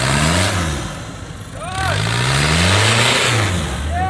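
An off-road vehicle running 50 psi of boost on sand revs hard through quick gear changes, its engine note climbing and dropping in repeated sweeps, loud and close, while people talk and shout over it.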